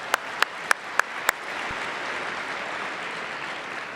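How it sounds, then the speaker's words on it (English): Audience applause at a RootsTech event after a singer's introduction, starting with a few sharp separate claps, then settling into a soft, distant, continuous patter of clapping. "Give her a round of applause."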